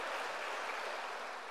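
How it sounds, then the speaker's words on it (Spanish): A church congregation claps in a dense, even wash of applause, steady and moderately distant, with no break. "Siga aplaudiendo al Rey de Reyes"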